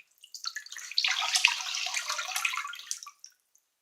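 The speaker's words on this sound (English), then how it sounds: "now I'm gonna take the washcloth, wring it out, because you don't want it dripping." A wet washcloth being wrung out over water, a steady close trickle and splash of dripping liquid lasting a couple of seconds before stopping.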